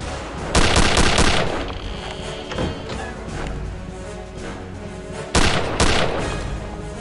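Gunfire from Return to Castle Wolfenstein during a castle sniper encounter: two loud bursts of rapid shots, one at the start and another near the end, with scattered echoing reports and thuds between them, no talk.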